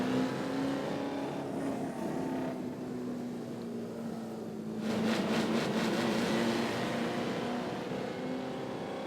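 A car in an Isle of Man racing video game drives a hot lap, its engine a steady, loud drone that rises and intensifies near the end with rapid pulsing gear-like revs; no one talks.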